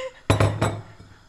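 Metal utensil knocking against a cooking pot holding eggplant, tomato and water, three quick clanks in close succession followed by a fading ring.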